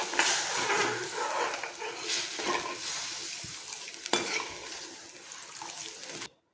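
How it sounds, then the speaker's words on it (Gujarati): A spoon stirs a spoonful of sugar into water heating in a metal pot, giving a close, continuous scraping and clinking with a few sharper knocks against the pot's sides. "એ બધું સારી રીતે આપણે મિક્સ કરી લઈશું"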